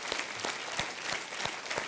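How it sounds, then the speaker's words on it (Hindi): Studio audience applause on the Kaun Banega Crorepati quiz show set, a steady dense patter of many hands clapping close by for about two seconds, with no voices over it. "तो देवियों सज्जनों, एक बार तालियों के साथ अभिनंदन किया जाए"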